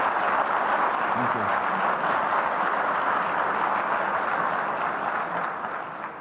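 Audience applause in a hall after a conversation with a prime minister, a broad sustained wash of clapping that holds steady and eases off at the end, a voice faintly underneath.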